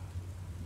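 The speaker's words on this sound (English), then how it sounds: "I hear thunder, pitter-patter." Thunder and rain in the video game Furi: a low, steady rumble under a dense hiss of rainfall, constant and moderately loud throughout the brief moment.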